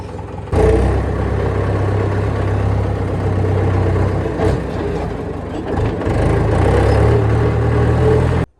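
A tractor engine runs loud and close in a steady low idling drone, dipping briefly once before settling back to a constant rumble, with no voices.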